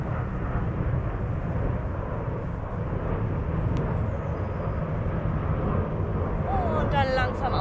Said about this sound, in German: Hier fliegen die Flugzeuge über den Wald.